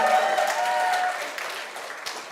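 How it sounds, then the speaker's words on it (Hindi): An audience claps at a motivational talk on overcoming fear and anxiety. The applause is a steady wash of many hands, fairly loud at first, then thinning and fading over a couple of seconds. "you saw all of them who clapped"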